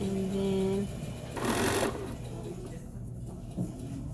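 A sewing machine stitches a cuff in a short burst, running briefly and then stopping, with a voice talking nearby.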